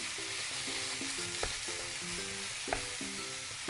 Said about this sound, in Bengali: ফোড়নটা একটু হয়ে আসলে বেটে রাখা মশলাটা দিয়ে দেব। মশলাটা একটু নেড়েচেড়ে নিয়ে